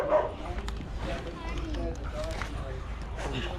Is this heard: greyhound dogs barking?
yes